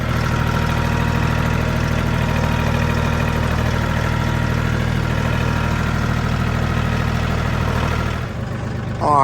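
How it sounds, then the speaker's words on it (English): A tractor engine runs steadily with a low, even drone while its bucket smooths out dirt, staying loud and close before easing off near the end. "take the tractor and I'll use my bucket to try to smooth all of this out."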